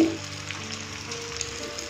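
Steady crackling sizzle of egg frying in a hot pan, close and continuous with faint pops, no talking.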